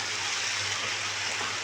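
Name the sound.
chicken fajita frying in a pan over high heat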